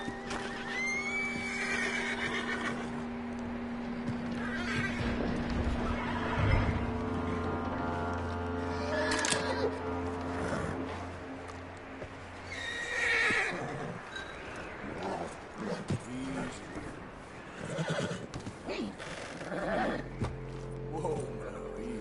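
A horse in the Western open-world game Red Dead Redemption 2 gives several loud whinnies and snorts while hooves clop intermittently, with brief stretches of male speech and ambient wilderness sound between them.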